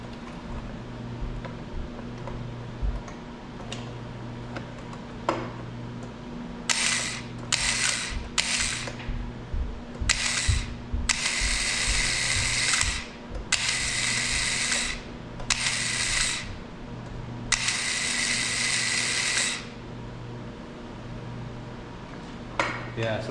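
An electric starter on a Honda GX270 engine is bench tested, whirring in several short bursts of a few seconds each over a low background hum, with faint clicks and handling noises between them.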